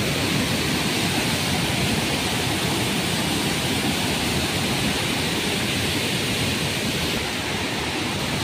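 A steady, dense roar of rushing water fills the whole stretch, loud and unbroken, from the Kothapalli waterfall in rainy-season flood, heard from close by.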